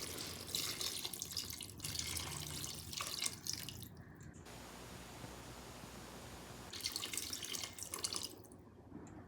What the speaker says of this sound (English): As I have taken 2 cups of rice, I am adding 3 cups of water.